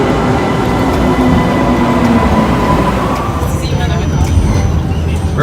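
A Vienna tram rumbles along its tracks around the Ring with steady rolling noise and occasional squeals, while people talk nearby over the din.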